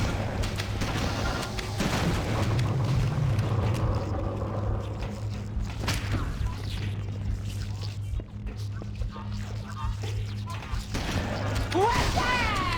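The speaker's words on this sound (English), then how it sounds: "Easy work with the fuel rod cannon." Fuel rod cannon blasts and explosions in the Halo CE video game, heavy booms and crashes over a constant low engine drone, with bursts of game noise and electronic sweeps near the end.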